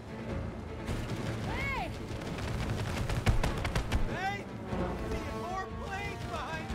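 Cannon fire in the video game It Takes Two comes as a rapid run of booming shots and blasts, mixed with whistling, sweeping game effects and a busy action soundtrack.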